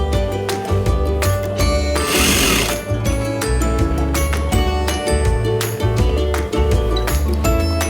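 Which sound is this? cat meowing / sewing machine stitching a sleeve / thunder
sewing machine stitching a sleeve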